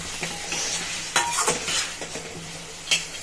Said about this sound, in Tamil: நண்டு கால் வருது பெரிய கால் போட்டுடலாம் ஒரு கிளறு கொடுத்துருவோம்